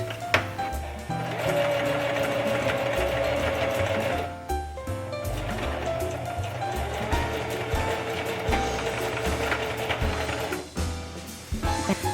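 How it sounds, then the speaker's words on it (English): A sewing machine stitches the elastic casing of a crib sheet closed, its needle mechanism whirring and clattering steadily up close for several seconds with brief pauses as the fabric is guided. "then go ahead and sew the casing closed"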